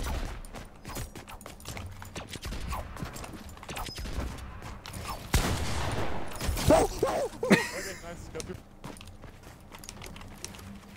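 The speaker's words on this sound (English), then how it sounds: "I shot first!" Scattered gunshots in a Fortnite match, sharp cracks and short bursts at uneven intervals over quieter game background, with a louder cluster of shots near the middle.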